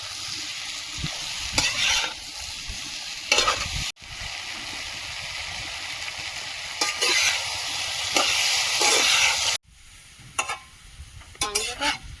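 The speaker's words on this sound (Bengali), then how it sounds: "তেল ছেড়েছে তবু আরও একটু কষিয়ে নেব" Chicken from egg-laying hens is sautéed with fried onion, garlic and spices in oil, a loud continuous sizzle with repeated stirring scrapes and clatter of a spoon against the pan, briefly interrupted by cuts.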